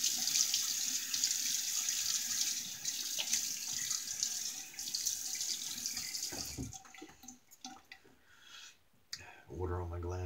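Tap water runs steadily into a sink while a vintage Racine electric safety razor is rinsed, a close continuous splashing stream that stops partway, followed by quieter clicks and handling noises.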